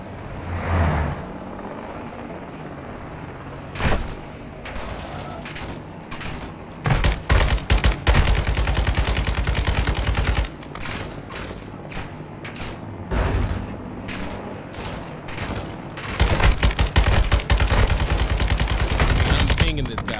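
LMG machine gun fire in Call of Duty Modern Warfare II during a desert drive, with repeated loud bursts of rapid automatic shots, some long and sustained, and a vehicle rumbling underneath.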